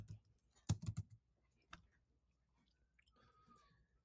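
A few quiet computer keyboard keystrokes, a short cluster of clicks followed by one more isolated tap, while setting custom page dimensions in CAD software, then faint background noise.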